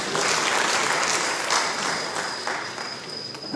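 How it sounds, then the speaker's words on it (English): An audience at a university Ramadan convention panel discussion applauds the rector in a full, loud burst of clapping that holds steady and then slowly tapers off. "A big round of applause to the rector."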